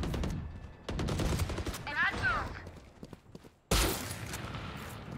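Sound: gunfire in a shooter video game

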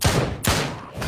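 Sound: gunshots in VR shooter video game Drop Dead Dual Strike

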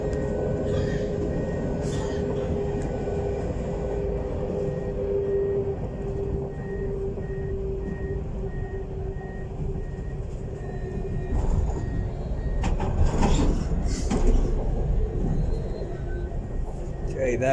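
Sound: NET tram passing at Bulwell

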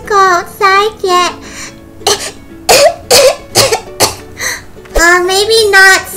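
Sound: child coughing

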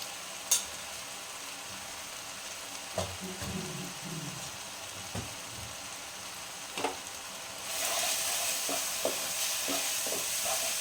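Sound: ground spices frying and being stirred for paneer masala

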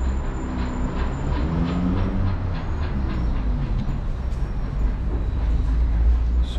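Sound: underground metro tram in Volgograd running

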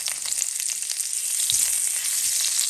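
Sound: scallion and ginger sizzling in hot oil

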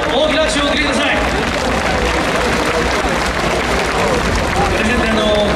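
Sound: audience applause at an award ceremony

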